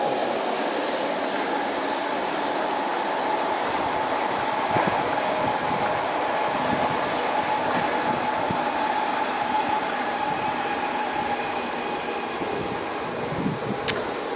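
A train rolls past on the railway at Tomteboda in Solna, Stockholm, with a continuous loud rumble of wheels on rails and a thin, high squeal running through it.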